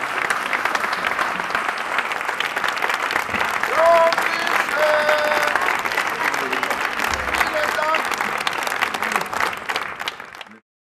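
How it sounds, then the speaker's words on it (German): Audience applause after a fundraising tally at an event tied to a documentary on war in Congo and mobile phones, a dense, steady clapping that fills about ten seconds before stopping abruptly, with faint voices mixed in. "Ich glaube, das ist ein Applaus wert."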